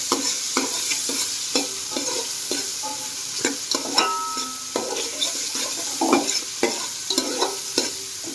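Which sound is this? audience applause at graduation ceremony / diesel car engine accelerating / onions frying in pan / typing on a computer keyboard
onions frying in pan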